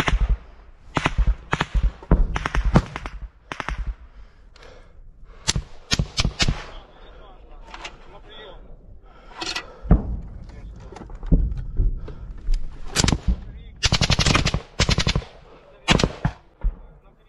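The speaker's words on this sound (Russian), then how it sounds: "Автомат." Automatic rifle fire in a trench battle: repeated loud bursts and single cracks, some near and sharp, others duller, scattered unevenly across the whole stretch with brief gaps between volleys.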